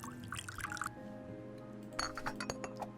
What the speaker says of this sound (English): make an espresso, then add a large amount of hot water